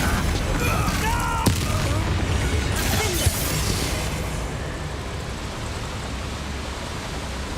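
A Confringo blasting spell explodes in Hogwarts Legacy inside a mine, a sharp burst followed by a rushing, noisy rumble that slowly fades, with a voice heard near the start.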